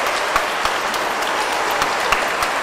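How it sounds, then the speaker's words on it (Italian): Applause from a church congregation for an ambassador at a perpetual profession ceremony, a steady broadband clapping texture with a few sharper individual claps standing out, close and fairly loud. "Un applauso per il nostro ambasciatore."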